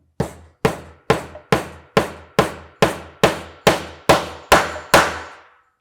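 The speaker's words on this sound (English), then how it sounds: "hammer in that first nail" A hammer drives a nail into the wooden snare block of a small homemade cajon, about a dozen sharp, evenly spaced blows with ringing decays, close and loud with no voices.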